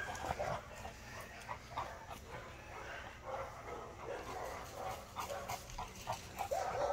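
Dogs bark and yip faintly in the distance, scattered barks over a murky outdoor background, with some whimpering sounds.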